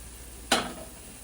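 Chopped garlic bursts into a short, bright sizzle as it is stirred in a hot pan, flaring suddenly and fading over about half a second.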